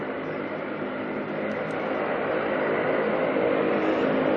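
A jet aircraft taxiing and turning a corner at Auckland Airport gives a steady broadband engine roar, loud and close, holding at an even level with no voices.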